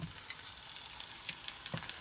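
Vegan burger patties brown in a frying pan with a soft, steady sizzle and light crackle, faint and close, with no talking.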